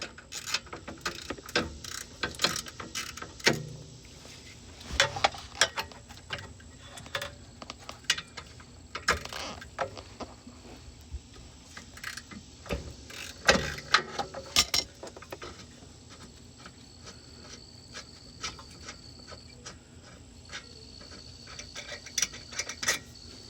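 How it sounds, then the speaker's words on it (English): A 16 ratchet working on the brake caliper bolts of a Mercedes SL 500, giving scattered sharp mechanical clicks and ticks over a low hum, close by and irregular, with quieter stretches between bursts; no speech. "Take our 16 ratchet and break those bolts loose."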